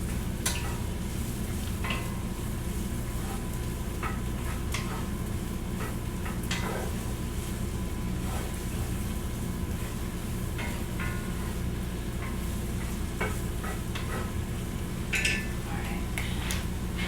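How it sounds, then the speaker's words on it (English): Lobster mushroom pieces, coated and frying in a pan, give a steady dense sizzle with light crackles and occasional utensil ticks throughout, close and continuous. "let's do this to make sure it gets a good sizzle"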